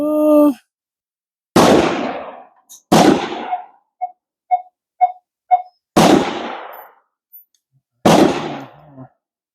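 Civil War carbine shots at a range shooting competition: four loud, sharp reports spaced a second or two apart, each with a short echoing tail, and a quieter series of small pops between the second and third shots.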